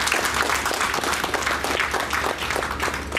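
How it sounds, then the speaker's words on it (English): An audience applauds Mr. Pangam at an event thanking sponsors and supporters, a dense continuous clapping close and loud for the full few seconds. "he deserves a round of applause"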